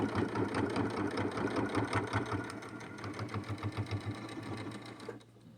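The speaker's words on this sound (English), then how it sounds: "So we're just going to sew right along inside of that line." A sewing machine stitches slowly through the thick pleats of a fabric face mask, giving a steady, close, rhythmic mechanical whir that runs for several seconds before easing off.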